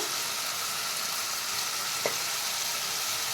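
Tomato, ginger and spice masala with turmeric and salt sautéing in hot oil, a continuous close sizzle and fry with one brief scrape of the spoon partway through, no voices.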